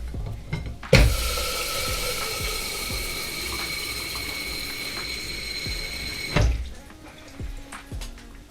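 A stained cup is rinsed at a kitchen sink using a gadget, giving a sudden strong rush of tap water that runs steadily for about five seconds before cutting off, with small clicks and clatter around it.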